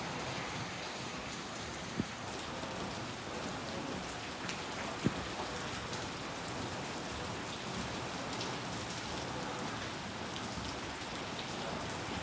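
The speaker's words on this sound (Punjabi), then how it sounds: "ਕਿੰਨਾ ਮੀਂਹ ਪੈਂਦਾ" Heavy rain pours down steadily in a dense, even hiss of drops on surfaces, with a few sharp drip knocks standing out briefly and no voices.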